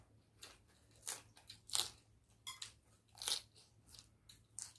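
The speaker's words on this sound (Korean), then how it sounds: "나 깍두기를 먹는데" Someone bites into cubed radish kimchi (kkakdugi), producing a series of loud, crisp crunches close to the mouth at an uneven chewing rhythm, with no talking.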